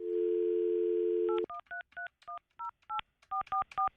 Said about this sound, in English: We're dialing live.